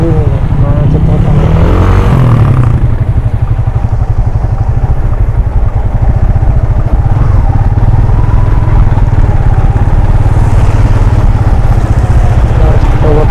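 Motorcycle and car engines idling and creeping in a total traffic jam, a loud, steady low rumble with a passing engine swell early on, close and continuous.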